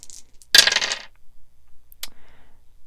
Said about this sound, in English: going to be drawing, or rolling rather, the normal dice